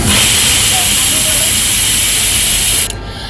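Onion frying in a pan with potato and ridge gourd, a loud, steady, close sizzle and hiss that runs unbroken for nearly three seconds before cutting off abruptly into quiet.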